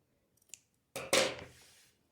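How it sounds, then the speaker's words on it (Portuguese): Scissors snipping loose threads on a small fabric doll hat, giving a faint tap followed by two quick crisp cuts close by, with no talking. "Vamos cortar esses fiapos aqui."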